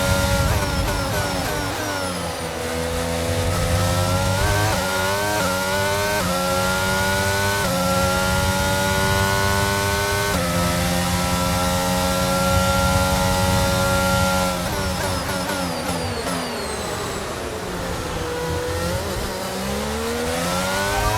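A race car engine in a wet sprint racing video game whines loudly and continuously, pitch climbing steadily through the gears as it accelerates back to speed, dipping briefly near the end, with no talk.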